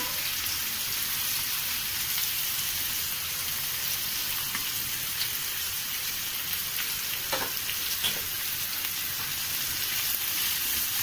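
Finely chopped onion sautéing with cumin in a pan for Maharashtrian vangyache bharit, a constant rain-like sizzle lasting throughout with faint occasional spoon scrapes and no talking.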